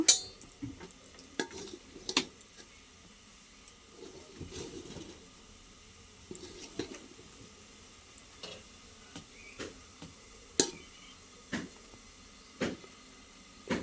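Egg chicken biryani served out of a pot: scattered clinks and scrapes of a spoon against metal, irregular and close, with no one talking.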